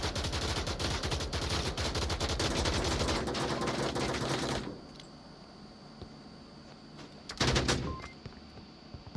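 Rapid rifle gunfire in the VR shooter Onward during a competitive championship match, a dense burst of shots for several seconds, then quieter ambience and a second short burst.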